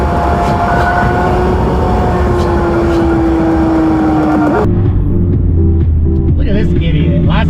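Tuned Mazdaspeed 3 accelerating at part throttle in third gear: a loud, close engine drone rising steadily in pitch with road noise, then a gear change with a drop in pitch and a lower, rougher note.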